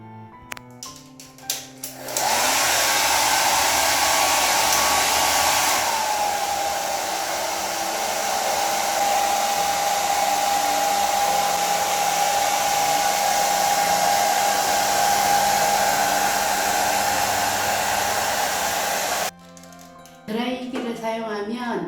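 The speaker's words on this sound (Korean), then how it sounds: "바니쉬를 빨리 마르게 하려면 드라이기를 사용하는 게 좋습니다" A hair dryer blows loud and steady for most of the stretch, drying varnish on pressed flowers for a flower-pressing lamp craft, starting and stopping abruptly after a few soft handling knocks.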